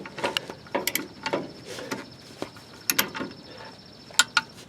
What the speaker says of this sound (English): now we're just going to torque it up to 29 foot-pounds